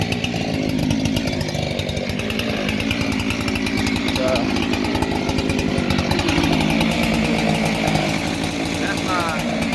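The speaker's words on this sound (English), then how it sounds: "That's my 365 Husky. Modified transfer port cover, so it's a 372 essentially. 36-inch bar, full house chain" A Husqvarna 365 chainsaw, modified to 372 spec with a 36-inch bar and full-house chain, roars steadily and loudly up close as it mills slabs from a log, the engine tone holding constant throughout.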